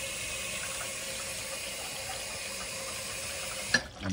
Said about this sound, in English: I'm going to add a little bit more lukewarm water.